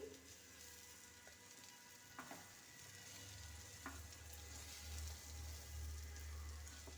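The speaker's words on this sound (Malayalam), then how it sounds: "എല്ലാം കൂടെ ഒന്ന് ചെറുതായിട്ട് ഇളക്കി" Anchovies (nethili) frying in a pan are stirred, a soft close sizzle with a few scraping clicks and low rumbling bubbling, faint overall, no talk.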